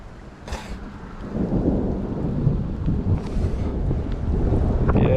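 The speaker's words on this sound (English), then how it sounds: "Yeah, guys, we got thunderstorm overhead," Thunder rolls overhead during a huge thunderstorm in the Rockies, a deep, continuous rumble that builds and stays loud, with wind buffeting the microphone and rain beneath it.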